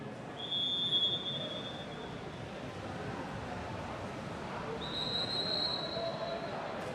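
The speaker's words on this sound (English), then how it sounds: "A little bit of confusion as we heard a whistle from the other course." A referee's whistle sounds from a nearby water polo course during a 16U-18U men's tournament: two thin, high whistle blasts at some distance, faint over steady pool-hall crowd noise.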